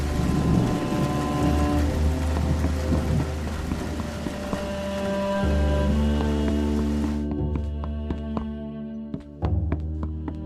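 Steady rain pours down with low rumbles of thunder beneath a sustained musical backdrop; the rain's hiss thins out toward the end.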